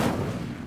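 The Incendio fire spell cast in the Hogwarts Legacy video game gives a short, loud, broadband burst of flame that whooshes and fades within a second.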